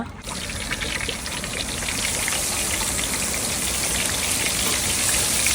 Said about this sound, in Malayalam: ഉരുളി അടുപ്പത്ത് വെച്ച് ഓയിൽ ഒഴിക്കുക